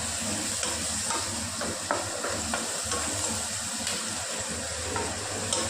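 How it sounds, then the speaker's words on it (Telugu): Onions fry in a pan with puffed rice, a steady close sizzle with soft stirring scrapes running throughout, no voices. "ఎర్రగడ్డలు కూడా బాగా వేగాయి కాబట్టి"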